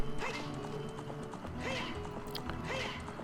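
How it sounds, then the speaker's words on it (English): Epona, the horse in The Legend of Zelda: Ocarina of Time, gallops with rhythmic game-style hoofbeats, with a couple of clear neighs and whinnies repeating about every second and a half. "I'll just bring my horse with me"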